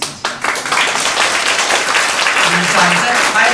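An audience at a lecture breaks into loud, sustained applause, dense clapping starting abruptly and continuing steadily to the end.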